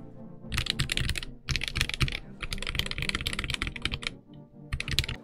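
Close, continuous typing on a Royal Kludge RK N80 low-profile 75% keyboard with stock switches: rapid bursts of light clacky keystrokes with short pauses between them, alone with no speech.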